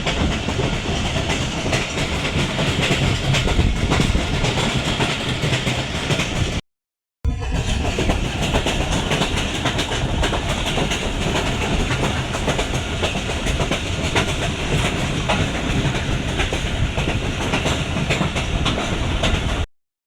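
Old coaches of the 13 Up Awam Express roll along the rails near Rawalpindi, a steady, loud rattling clatter of wheels over track that continues almost without pause.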